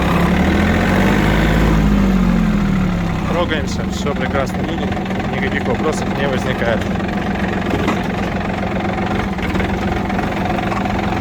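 A Yanmar F-200 compact Japanese mini tractor engine runs at a steady diesel chug as the machine pulls away in third gear, a loud continuous drone with someone talking over it.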